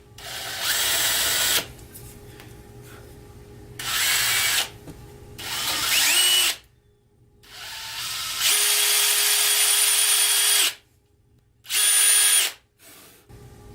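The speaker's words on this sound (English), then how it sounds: "I'm just going to carefully drill" A handheld power drill bores vertically through wood for a bottle opener project, in several loud bursts of whirring separated by short pauses, close up with no talk.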